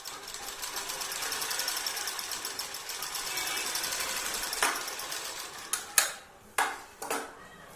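A sewing machine runs a continuous stitching whir while sewing a size 52 bra, close up, then stops and gives a few sharp mechanical clacks near the end.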